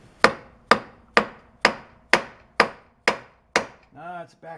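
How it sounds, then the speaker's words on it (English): Eight evenly spaced, sharp blows of a dead blow hammer striking a metal part on a belt disc sander being rebuilt, each a loud thud with a short decay, followed by someone speaking briefly. "How about a dead blow hammer?"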